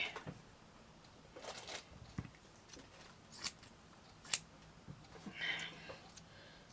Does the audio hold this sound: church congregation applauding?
no